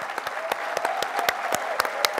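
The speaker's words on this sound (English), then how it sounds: "I do want a round of applause for Lisa Strand" Sparse, scattered handclaps from a small audience at a Freedom From Religion Foundation year-in-review event, a steady run of individual claps with a faint voice humming underneath.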